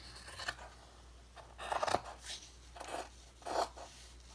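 Scissors trimming paper along the edge of a handmade mixed-media journal page, several short quiet snipping and scraping bursts spaced irregularly, close and soft with no talking.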